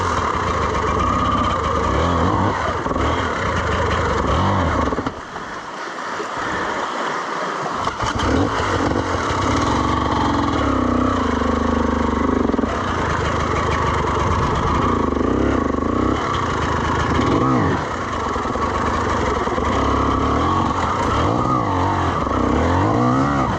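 A dirt bike stuck on a muddy trail in Mililani revs hard and close: a rising and falling engine whine surges repeatedly with a short dip in between, loud throughout.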